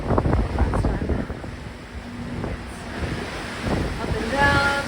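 Ocean waves splash and wash against a cruise ship at sea as the water grows rougher, a broad surging hiss with wind noise that rises and falls throughout, while faint voices murmur in the background.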